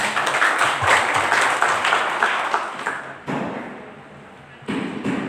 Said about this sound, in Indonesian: Aplaus untuk Jepara.